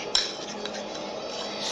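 A spoon clinks and scrapes steadily against a bowl as a bitter lupine face mask mixture is stirred, one sharp clink near the start followed by continuous soft scraping, close and fairly quiet.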